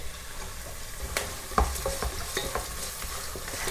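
Garlic and ginger frying in a pan for a homemade pickle, giving a steady close sizzle with a few sharp stirring scrapes and clicks partway through.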